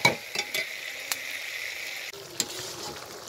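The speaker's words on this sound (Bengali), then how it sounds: "মাংস দিয়ে ভালো করে মাংসটাকে ভালো করে কষাবো" Washed meat sautéing in hot oil with spices hisses in a soft, steady sizzle, with a few light clinks of a stirring spoon against the pot and no talking.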